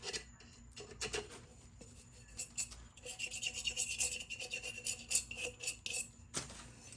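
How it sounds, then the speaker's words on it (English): Hand sanding of a stripped epoxy tumbler, close rasping strokes of varying pace and loudness, a short burst early on and then a longer stretch of steady scrubbing with no voices. "All I'll do is just sand this some more to get it smooth and even."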